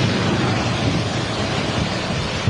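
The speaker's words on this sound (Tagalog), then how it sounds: "Sumisipol ang hangin." Super Typhoon wind howls over Catanduanes, a loud, unbroken roaring rush battering the microphone, with surging surf-like noise and a brief gust peak at the end; any whistling is buried in the roar.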